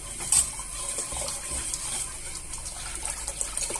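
Half a litre of liquid poured into a Cookeo multicooker while cooking ham-wrapped endives, a steady close splashing and gushing stream that runs through the whole stretch.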